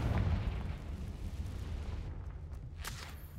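A Confringo blasting spell explodes in the Hogwarts Legacy video game, opening with a loud, deep boom that trails into a rumbling, crackling tail, with no talking.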